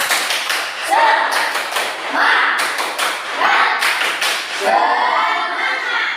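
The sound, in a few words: pupils doing the 'tepuk semangat' rhythmic clapping chant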